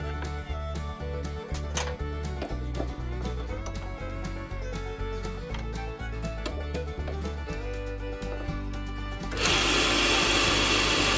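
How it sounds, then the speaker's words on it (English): Delrin thermoplastic rod being faced off on a metal lathe in a machine shop, a steady mechanical whir with rhythmic tonal cutting that shifts to a louder, brighter broadband hiss near the end. "First thing I'm going to do is face off the end nice and square."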